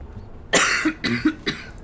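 A person coughs several times in a short, close burst, with a bit of throat clearing mixed in.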